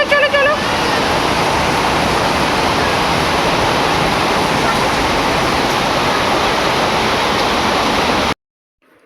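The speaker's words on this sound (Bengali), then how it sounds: "প্রচণ্ড ঝিট আসছে, ব্ল্যাঙ্কেটটা একদম ভিজে যাওয়ার অবস্থা" Heavy rain spray blows in close and loud as a dense, unbroken wash of noise that lasts several seconds and then cuts off abruptly.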